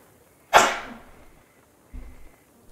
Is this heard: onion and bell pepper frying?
no